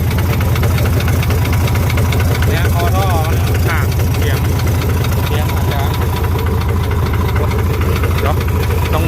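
Engine of a modified ten-wheel truck running steadily and loudly up close, with a deep, rough, knocking idle that stays constant throughout, under some faint background sounds.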